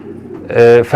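Pigeons cooing in a rooftop pigeon loft, a soft low throb of coos that swells loud and close in the second half, with a faint breathy murmur of birds underneath.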